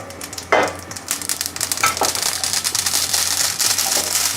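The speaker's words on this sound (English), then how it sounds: "The pan is smoking hot. We're going in with our mustard seeds." Mustard seeds sizzle and crackle loudly as they hit smoking hot coconut oil, a sharp burst followed by a steady hiss with scattered popping, close and clear with no talk.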